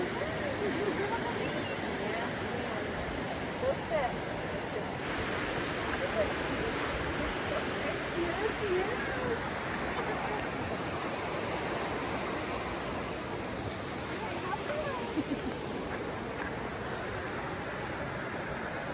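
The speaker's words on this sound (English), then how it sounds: "The river is quite noisy now with all the snow runoff" A continuous rushing roar of a fast-flowing river swollen with snowmelt runoff, near a railroad bridge, broad and steady throughout, close by with no breaks.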